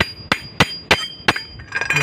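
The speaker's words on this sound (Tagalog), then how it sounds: "Gamit ang mahiwagang sinsil at ang mahiwagang martilyo yan." A hammer strikes a steel chisel to drive out a bearing from a scooter's torque drive, giving four sharp, evenly spaced metallic blows up close, followed by lighter clinking taps.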